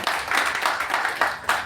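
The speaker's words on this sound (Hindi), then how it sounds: "तो शीतल सिंह जी के लिए जोरदार ताली।" An audience at a women achievers awards ceremony in a hotel claps for an honoree, a brief burst of clapping that swells in a few uneven waves.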